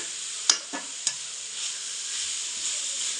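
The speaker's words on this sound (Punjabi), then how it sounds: "ਉਨੀ ਦੇਰ ਹਲਾਉਣਾ ਹੈ ਜਿੰਨੀ ਦੇਰ ਮਤਲਬ ਘਿਓ ਨਾ ਛੱਡੇ" Grated carrot gajrela fries in ghee with a steady close sizzle, broken early by a few sharp scrapes and knocks of a spoon stirring in the pan, with no talk.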